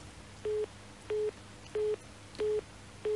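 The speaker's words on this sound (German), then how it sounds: "Ich höre so ein Tuten im Hintergrund." Interference on a telephone line during a radio call-in show: five evenly spaced electronic beeps, each about a fifth of a second long, repeat in a steady rhythm over faint line hiss.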